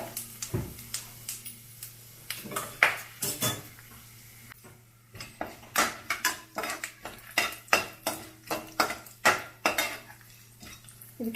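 Bay leaf, cinnamon, cardamom, cloves, star anise and cumin dropped into hot oil for peas pulao, with a spoon repeatedly scraping and knocking against the pan in an irregular series of close metallic taps.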